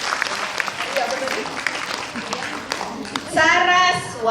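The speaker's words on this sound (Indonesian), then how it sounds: "Berikan tepuk tangan yang meriah untuk penari kita dari Sanggar Budaya" Audience applause for dancers of a cultural performance group in a Hong Kong stadium, steady clapping throughout with a voice talking over it, then a louder burst of cheering and music-like tones near the end.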